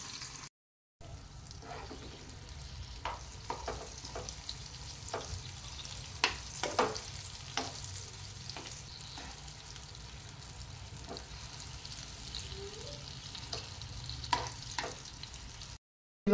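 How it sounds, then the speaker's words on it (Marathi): Stuffed green chillies fry in oil with a moderate, constant sizzle, dotted with scattered sharp pops and crackles across the stretch, heard close and without talk. "आता या तेलामध्ये चांगल्या भाजून घ्यायच्या आहेत।"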